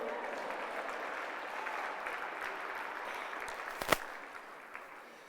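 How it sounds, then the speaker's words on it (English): Audience clapping, a sustained spatter of applause at moderate distance that fades gradually, with one sharp louder clap near the end. "You can clap if you want."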